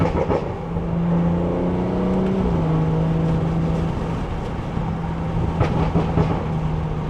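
BMW 340i with a B58 engine driving, intake and exhaust giving a steady droning tone that shifts pitch as the revs change, loud and close with road noise underneath.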